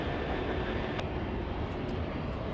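A jet airliner on landing approach at Los Angeles International Airport, a steady broadband engine roar that holds loud and even throughout without any voices.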